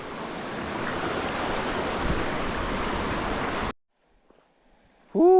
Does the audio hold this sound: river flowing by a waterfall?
yes